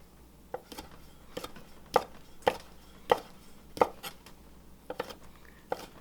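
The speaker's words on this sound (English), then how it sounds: "Just going to cut these into little cubes." Knife chopping smoked sausage into small cubes on a cutting board, a chili ingredient: a dozen or so sharp, close knocks in an uneven rhythm, each a crisp tap of blade on board, with no talking.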